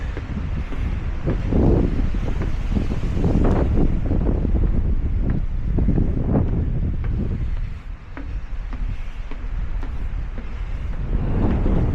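Strong wind on an icy winter mountain trail in the Belknap range, a loud, continuous roar buffeting the microphone with surging gusts and no voices for twelve seconds.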